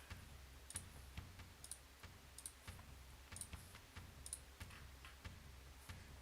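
Someone clicks and taps on a computer keyboard during a gaming tournament, faint, close, irregular clicks with regular sharp high ticks over a low background hum.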